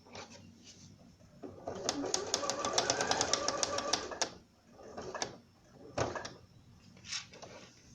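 Sewing machine running a third seam on a bra cup, a dense burst of rapid stitching near the start and middle, followed by a few short separate bursts, with no talk over it.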